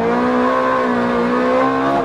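A Ferrari 430 Scuderia on road tyres oversteering, its engine holding a loud, steady sustained note with a faint tyre squeal layered in throughout.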